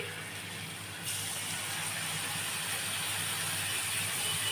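Spice mixture of salt, chilli powder, turmeric, cumin, ginger and garlic poured into a hot pan for an egg and eggplant dish, a steady broad sizzle that steps up in strength after a second and holds, close by.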